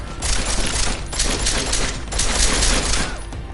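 Rapid automatic gunfire in the video game Deus Ex: Mankind Divided, loud and sustained bursts with brief gaps, filling the whole moment with dense sharp shots.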